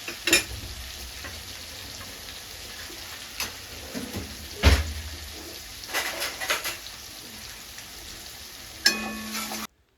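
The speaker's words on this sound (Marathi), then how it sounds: "त्यानंतर मग व वाटणसुद्धा चांगलं भाजून घेतलं" Masala paste frying in a pan, a steady close sizzle with occasional stirring scrapes and louder spatters, running alone throughout.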